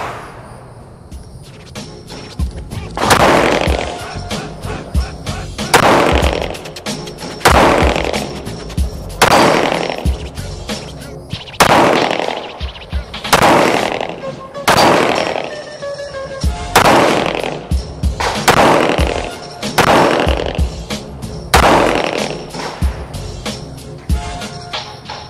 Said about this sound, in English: Took a few shots.